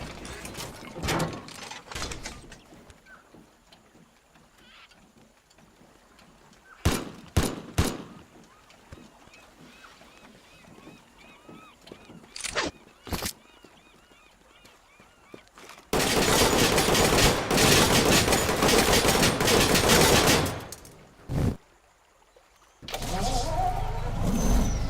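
Bursts of vehicle-mounted gunfire in the video game Teardown come in sharp clusters, followed by long stretches of loud continuous roaring fire and engine noise, close and dense.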